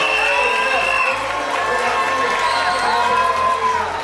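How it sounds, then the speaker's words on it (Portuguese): Standing audience at a law graduation ceremony cheers, whoops and applauds continuously in a loud, dense crowd roar, with voices shouting throughout. "de você se levantar, aplaudir os seus personagens"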